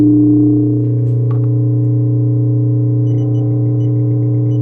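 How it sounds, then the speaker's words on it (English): A magnetic amplifier on 60 Hz line power gives a steady electrical hum with strong low tones and a wavering beat frequency, droning continuously with a faint high ticking near the end. "so you can hear the disharmonic beat frequency happening"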